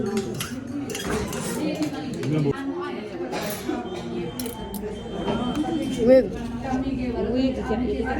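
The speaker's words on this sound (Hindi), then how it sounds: "पतीला बजा रहे हैं ये लोग" People at a food plaza stall bang and clatter on an empty cooking pot, with repeated metallic clinks and knocks among other dish sounds, under steady talk from nearby voices.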